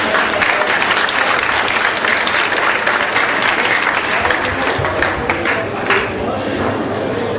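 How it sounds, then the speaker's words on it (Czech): An audience at a fashion show applauds with loud, dense, sustained clapping that fills the whole stretch, with crowd noise mixed in. "Zatleskněte pro ně."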